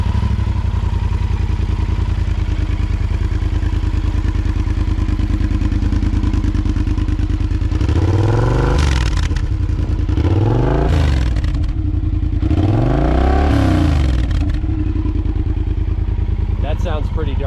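A Yamaha Super Ténéré 1200 motorcycle with a non-factory exhaust idles with a loud, steady rumble, then revs up three times in quick rising and falling bursts before settling back to idle.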